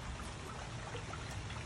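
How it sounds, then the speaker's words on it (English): Steady rain pours down outside a large covered, screened lanai by a swimming pool, a dense even wash of drops and trickling water filling the whole stretch with no voices. "Again, it is a rainy day today."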